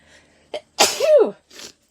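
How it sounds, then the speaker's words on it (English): A person gives one loud, close sneeze with a short sharp intake just before it and a softer breath trailing after. "I'm probably going to sneeze again any second."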